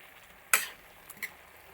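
Avial vegetables being stirred in a cooking pot for a Kerala-style avial, one sharp scrape of the spoon against the pot followed by a couple of softer clinks, close and fairly quiet.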